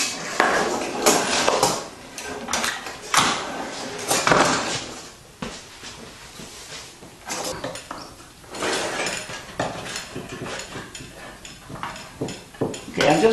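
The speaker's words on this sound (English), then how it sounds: "go ahead and get our band clamp on this" A Burl band clamp being fitted around a wooden shop drawer and tightened, with irregular clattering, knocking and ratcheting bursts separated by brief pauses, close and moderately loud.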